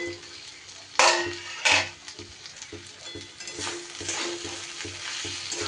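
Fried potatoes and okra tossed into egg masala in a pan give a soft, steady sizzle with stirring scrapes and a couple of sharp utensil clanks early on, close up.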